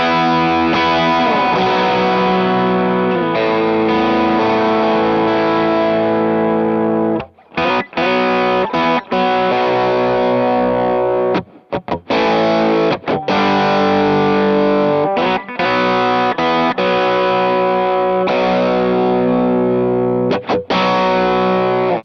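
Electric guitar through a Klon Centaur overdrive pedal gives a thick, rich, driven tone as chords ring and sustain for over twenty seconds, broken by a few short pauses between phrases.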